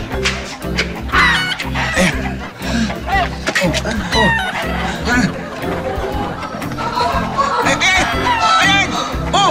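Chickens cluck and squawk amid excited, overlapping shouting voices close by.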